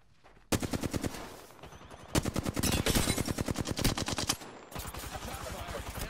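Rapid automatic gunfire rattles in an online shooter video game, in three long loud bursts of fast regular shots with brief gaps between them, close and dominant.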